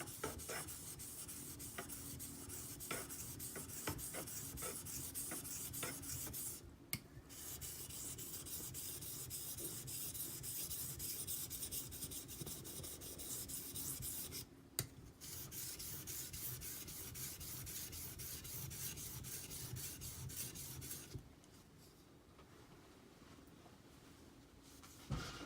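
Knife blade rubbed back and forth on an Imanishi Latte 400 grit whetstone, a faint, continuous scraping broken by a few short pauses.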